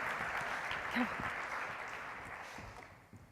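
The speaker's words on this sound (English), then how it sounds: "Can we clap for Kim" Applause from a conference audience at a music industry summit, a steady wash of clapping that fades gradually over a few seconds, with a voice briefly heard over it.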